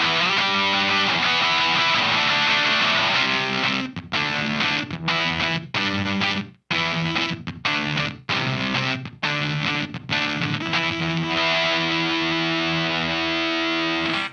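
Electric guitar power chords through a Seeker Effects Lineage Zonk vintage fuzz pedal, thick and buzzy, starting as a sustained wall of fuzz and then breaking into choppy stabs with short silent gaps before ringing out again.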